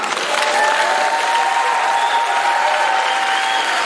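Stormy applause from a large audience at a KVN comedy show in London, a dense, steady roar of clapping filling the hall for several seconds with a faint sustained tone running underneath.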